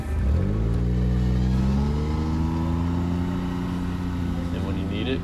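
A John Deere XUV 835R full-size Gator utility vehicle engine revs up and holds a steady, fairly loud drone nearby while someone talks over it.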